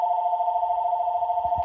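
A telephone rings indoors: a steady, loud electronic tone holds for the whole moment, with no voices.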